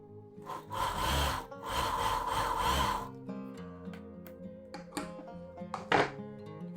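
A sewing machine stitches a strip on a boat neck blouse, a close rapid whirring run of about two seconds and then a pause with scattered clicks and fabric handling.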